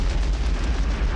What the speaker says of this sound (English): then ignite a rocket motor